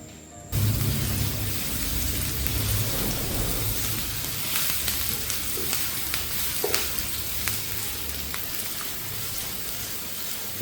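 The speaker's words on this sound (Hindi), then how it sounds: "2 टेबलस्पून ऑयल, चॉप किया हुआ प्याज मीडियम साइज का ये डाल देंगे इसके अंदर।" Medium-sized chopped onion hitting two tablespoons of hot oil in a pan, a sudden loud sizzle that settles into a steady crackling fry with occasional stirring clinks.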